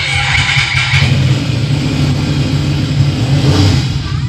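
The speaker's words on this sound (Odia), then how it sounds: "ମୁଁ ଗାଡିଟାକୁ ଷ୍ଟାର୍ଟ କଲି" Car engine effect in an Odia jatra stage comedy, a loud, steady revving drone held for several seconds after a brief rise at the start.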